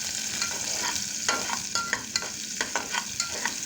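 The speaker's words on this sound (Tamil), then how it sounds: "போட்டு நல்லா கிளறி விட்டுக்கோங்க." Dried chillies and chopped shallots frying in oil in a pan for a spicy tamarind curry, with a steady close sizzle and repeated scraping stirs of a spoon every half second or so, no voices.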